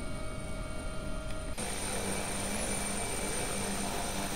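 Rotor and turbine drone of an AW-139 helicopter in a flight simulator, a steady broadband whir with a high whine that jumps louder and brighter partway through, continuing alone without talk.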